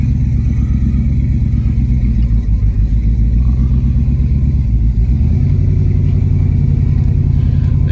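A 1967 Dodge Dart GT convertible idles steadily with a deep, loud, rumbling engine note and a slight change in pitch partway through, with no talking over it.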